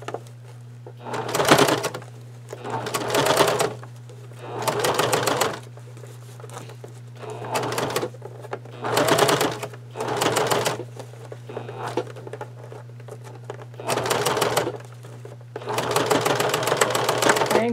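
Sewing machine stitching a fabric bag, close and clear, running in repeated bursts of rapid needle chatter separated by short pauses, over a steady low hum.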